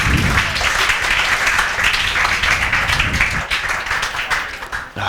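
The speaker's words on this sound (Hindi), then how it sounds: "दिव्यांशी अग्रवाल के लिए बजाओ तालियां" A classroom of students bursts into loud, dense applause lasting several seconds, a crowd of many hands clapping close by that thins and tapers off toward the end.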